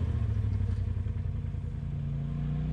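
An off-road vehicle engine at Lake of the Ozarks Off Road Park labours steadily while climbing a hill, a loud continuous low rumble with some clatter and no talk.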